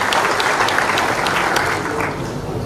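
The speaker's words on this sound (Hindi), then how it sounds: "जोरदार ताली बजा करके आज के शुभारंभ में हम सब सहभागी हो गए" An audience at a state tech growth conclave in Madhya Pradesh breaks into loud, steady applause, many hands clapping close together and fading slightly toward the end, with no talk over it.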